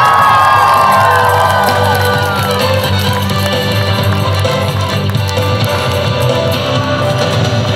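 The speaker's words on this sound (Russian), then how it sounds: "Ваши аплодисменты." Children at a camp festival cheer and shout in a loud, dense crowd roar. Whoops rise over the din, with music playing underneath and the noise staying steady throughout.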